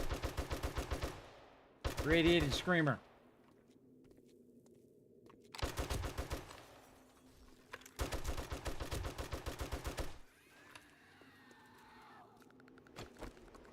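Loud, close bursts of rapid automatic gunfire from the video game 7 Days to Die, several long sustained volleys broken by short pauses, with someone briefly talking between them.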